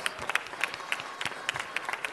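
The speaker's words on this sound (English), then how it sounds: "let's give Mr. Buscaino a round of applause" Quiet, scattered applause rises from attendees in a city council meeting chamber, with sparse individual claps sounding from a distance.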